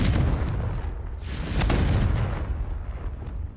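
Confringo fire spell in Hogwarts Legacy: a loud, rumbling blast with a whooshing burst in the middle, heavy and continuous for a few seconds before fading slightly.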